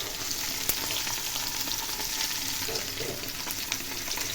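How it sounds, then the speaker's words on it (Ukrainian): Pieces of rooster meat fry in a hot pan, giving a constant close sizzle with occasional crackles and the faint scrape of stirring. "Півника зараз обсмажую"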